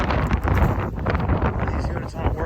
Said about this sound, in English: Tie it down the ladder. It's windy.